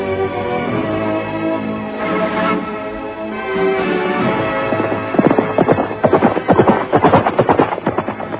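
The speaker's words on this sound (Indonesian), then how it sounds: "kuda itu pun sudah berlari kencang menerobos barisan" Horse hooves pound into a fast gallop, building from a steady background bed into a loud, rapid rhythmic drumming of beats over the final few seconds.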